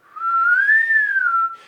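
A person whistles one clear, sustained note that slowly rises and then falls back. The whistle is close and loud against a silent background.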